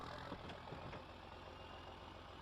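A 4320 tractor's diesel engine in Farming Simulator 22 turns over and settles into a steady idle, with a few early thumps giving way to a continuous low rumble heard alone.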